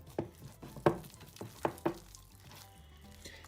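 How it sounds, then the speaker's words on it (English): Soft, wet vegan focaccia dough is worked by hand in a bowl, giving a series of close squelches and slaps, several in quick succession and then quieter kneading. "you simply mix it all the dough together with your hands"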